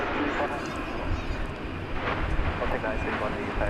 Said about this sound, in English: A380 headed out